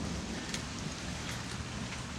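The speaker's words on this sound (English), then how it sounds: "I like the rain." Steady rain falling outdoors on a May day with thunder around, a constant dense patter with occasional closer drops, even and unbroken throughout.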